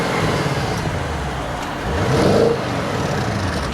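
Audi S6 with a V8 engine and Milltek Sport exhaust, a steady deep drone from nearby that swells in a brief rev around the midpoint before settling back to a constant hum.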